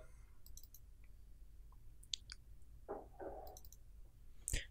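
A few soft, scattered computer mouse clicks sound close and quiet over a low background hum while a file is browsed and selected on a laptop during a digital forensics lab.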